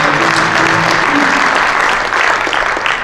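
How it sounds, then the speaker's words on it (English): Steady, loud audience applause for a musician at a live show, continuous clapping filling the whole stretch with a faint musical tone underneath. "Have a nice hand for Ken back there"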